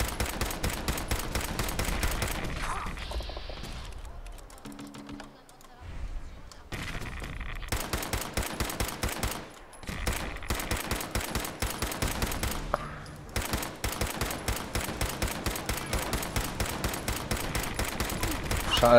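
Gunfire from a weapon in Fallout 4, fast steady streams of shots in long bursts with brief quiet gaps around the middle, moderately loud throughout.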